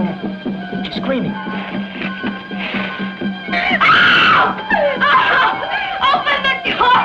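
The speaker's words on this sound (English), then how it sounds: "She's screaming." A woman screams in a 1960s horror film scene, loud, close bursts of shrill cries and gasping over harmonic tones and other voices.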